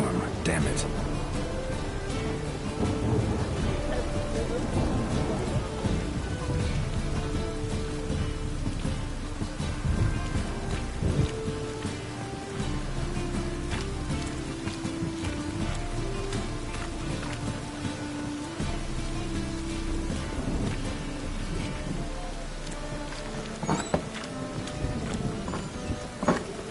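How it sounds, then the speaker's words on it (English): Steady rain with a rumbling thunderstorm in a video game, a dense continuous wash of rainfall under layered game ambience and music, with occasional louder rumbles and no speech. "A storm, damn it."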